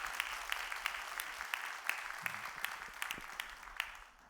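A church congregation in a room applauds steadily, a dense patter of many hands clapping at moderate distance, fading slightly toward the end.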